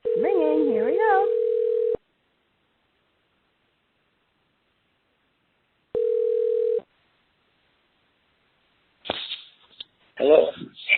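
Ringback tone of an outgoing telephone call: a steady, loud tone that rings in two bursts separated by silence, the first about two seconds long and overlapped by a voice, then rustling noises at the end.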